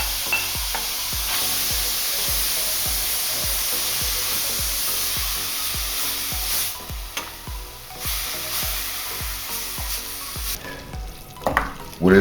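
Diced vegetables sweat and sizzle in a hot pan for a bolognese ragu, a steady close frying hiss broken by regular scraping stirs, with no talk.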